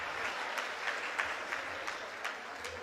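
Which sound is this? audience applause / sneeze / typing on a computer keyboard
audience applause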